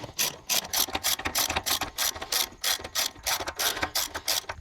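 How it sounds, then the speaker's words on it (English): A ratchet with a 21mm socket snugs down the lug nuts on a Toyota Land Cruiser steel wheel, giving a steady, close run of quick metallic clicks in rapid bursts with no talking. "we're just going to snug them down with a 21mm socket"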